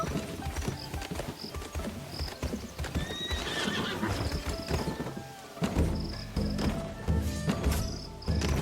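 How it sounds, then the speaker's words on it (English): A horse in the video game Where Winds Meet trots with steady close clip-clop hoofbeats, whinnying briefly in the middle, with faint ambient chirps behind. "What a mighty horse!"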